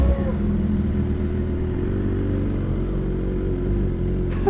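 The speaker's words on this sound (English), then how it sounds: "I didn't think you were going to rev." Motorcycle engine idling steadily and close by, with a constant low rumble and faint clatter and no clear rise in revs, running alone without speech.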